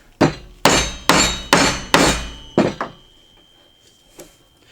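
A mallet strikes a chisel while a mortise is hand-cut in wood, six sharp, evenly spaced blows close by, the last two quicker, followed by a faint tap.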